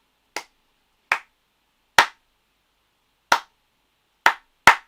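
Six sharp hand claps, spaced unevenly across a few seconds and quickening toward the end, each a crisp, close, isolated smack against silence.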